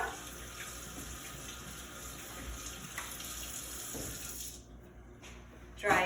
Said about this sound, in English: And rinse off all the soap.